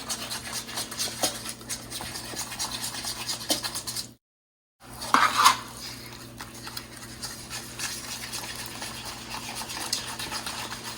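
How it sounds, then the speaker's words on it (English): A spoon scrapes and rubs steadily through chocolate wacky cake batter in a thin metal cake pan, close and continuous, with a brief silent gap midway and a louder scrape after it. "Now we want to stir until all the lumps are gone."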